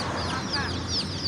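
Native village chicken chicks cluck and cheep in a quick, busy burst of high calls, fairly close and continuous over a low background murmur.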